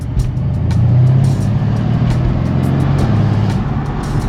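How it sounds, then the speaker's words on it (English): A Mercedes C63s with downpipes installed idles and revs in comfort mode with its exhaust valve open, giving a deep, steady, loud exhaust rumble up close with slight swells in pitch. "this is how the car sounds in comfort mode with the exhaust valve on."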